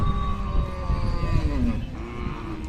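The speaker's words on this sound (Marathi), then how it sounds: "काजळी खिल्लार मोठ्या मापाची गाय घेतलेली आहे" A large Khillar cow of the Kajali type lowing at a cattle market in Sangola, Solapur, one long, loud, close moo sustained for over two seconds over busy market background noise.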